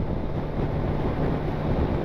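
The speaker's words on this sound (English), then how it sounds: "because it is very, very windy and very, very cold" Strong, cold wind buffets the microphone on a Kawasaki Z1000SX ride near Holmfirth, a constant low rumble and rushing noise, no voices, steady for the whole stretch.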